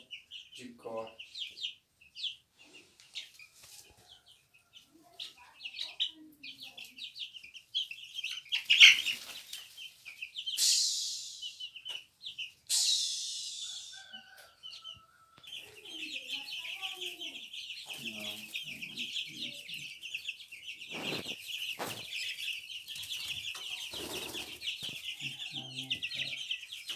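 Chickens on a small chicken farm cluck and squawk near the listener, with a dense, busy chorus of bird calls, some louder outbursts, and people talking faintly amid the flock.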